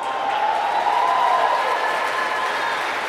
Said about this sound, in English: You're gonna get tired of applauding because listen to this.